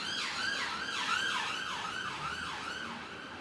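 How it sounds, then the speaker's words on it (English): Emergency vehicle sirens wail outside, rising and falling in a steady repeating cycle that stays loud and continuous throughout, with no voices over them. "Sorry, Professor Drewry, I think the sirens behind me might have blocked out that question"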